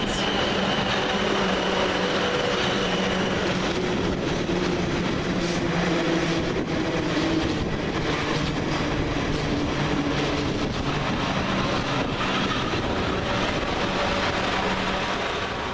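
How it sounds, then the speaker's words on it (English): A train passes through Hilsea station near Portsmouth, a steady loud roar of wheels and carriages rolling past close by, sustained throughout with faint clatter and no talk. "It's now arriving the 11:03 Southwest train service from London Waterloo to Portsmouth Harbour."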